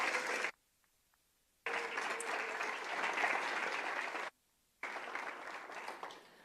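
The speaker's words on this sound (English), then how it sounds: "Another big round of applause for Corona." Dense applause from an audience at a school district governing board meeting for a student being recognized, broken twice by abrupt dead silences before the clapping resumes at a similar level.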